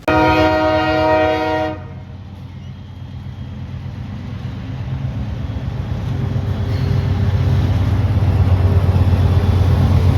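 A CSX duo of AC44 locomotives in YN2 paint sounds a loud chorded horn blast for about two seconds, then rumbles past with a growing low engine drone and rhythmic wheel clatter.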